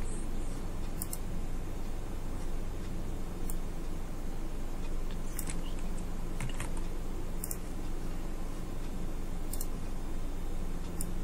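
Steady typing on a computer keyboard, key clicks repeating throughout over a constant background hiss, no voice.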